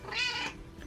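A single cat meows once, close and clear, a rising then falling call in a quiet room decorated with New Year tinsel.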